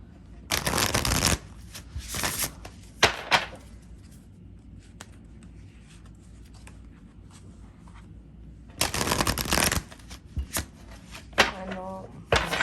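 Tarot cards are riffled and shuffled in sharp, close bursts separated by quieter pauses, with a voice speaking briefly near the end.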